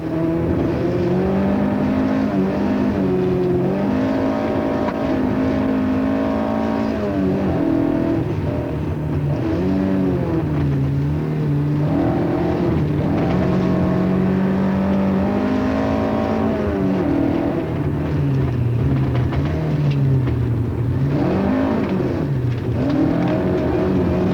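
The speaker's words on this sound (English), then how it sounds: "His Escort speeds back to Nairobi after what must rank as the finest drive of his career." A Ford Escort rally car at the 1977 Safari Rally in Kenya speeds toward Nairobi, its engine roaring loudly and continuously with rising and falling revs through gear changes, heard close up throughout.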